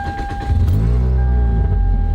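Old Toyota Celica with a hole in its exhaust, started with a key: a brief stuttering crank catches into a steady, deep, rumbling idle close by.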